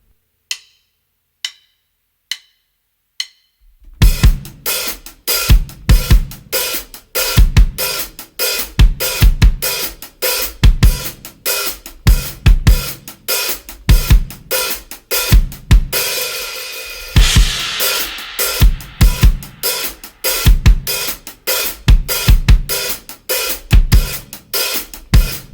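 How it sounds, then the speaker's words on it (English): Drum kit bass drum with hi-hats playing a groove, no snare: a few sparse opening hits, then a steady, busy, loud pattern of kick and hat strokes running throughout, with no voices. "what I want to do for step 3 is do just the bass drum pattern with the hi-hats"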